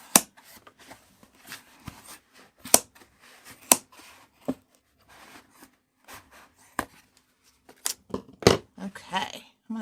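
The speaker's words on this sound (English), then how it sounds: "Let me just cut a couple of pieces here. It's so thick." Scissors snip through thick craft foam in a series of sharp, irregular cuts and crunches, close and clear, with brief quiet gaps between strokes and a voice speaking at times.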